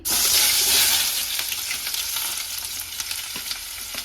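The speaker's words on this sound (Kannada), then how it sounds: "ಸೊ ನಾನು ಫಸ್ಟ್ ಈರುಳ್ಳಿ ಹಾಕೊಳ್ತಾ ಇದ್ದೀನಿ." Onion frying in hot oil in a pan for egg kheema, a loud steady sizzle that opens sharply and continues close up, alone, with faint stirring crackles.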